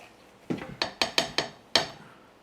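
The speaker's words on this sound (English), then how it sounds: "Now that we're 2 hours in, we're going to stir it again." Metal spoon knocking and scraping inside a pot of rendering beef tallow, six sharp clinks spaced irregularly over a couple of seconds, close and fairly quiet with no talking.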